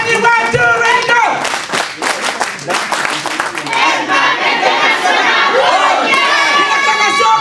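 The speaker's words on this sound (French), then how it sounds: "Est-ce que c'est pas une acclamation exceptionnelle pour notre compagnie." A crowd at a company anniversary celebration shouts and cheers, with a burst of rhythmic clapping in the middle, voices rising together loudly and then continuing in excited chatter.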